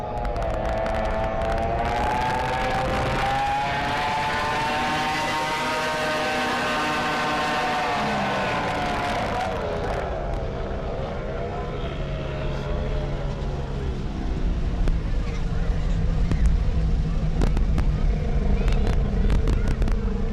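Pro mod racing boats roar through an 800-foot sprint on a lake, with loud engines climbing steadily in pitch, then dropping and fading into a rougher rumble as they pass, under continuous noisy wash.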